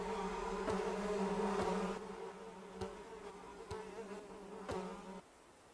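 Insects buzzing in the video game Ember's Verge, a steady droning hum with periodic sharp clicks, fairly close and continuous before dropping off near the end.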